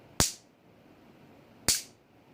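A metallic iron object is struck twice, giving two sharp, bright clanks about one and a half seconds apart, each with a short ringing decay over a quiet background.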